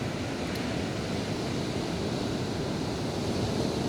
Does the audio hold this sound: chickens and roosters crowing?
no